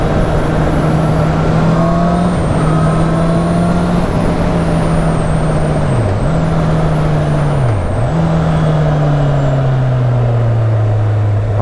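Honda CB650R 2019 middle-weight motorcycle engine while riding, a loud steady drone with a high whine that dips briefly twice during gear changes, then drops in pitch as it slows, with constant wind noise.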